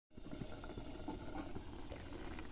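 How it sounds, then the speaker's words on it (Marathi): Potato and pea curry boiling in a covered pot, producing a steady close bubbling and gurgling simmer that starts abruptly and continues evenly without talking. "तुम्ही बघू शकता इथं आपली भाजी चांगली उकळलेली आहे"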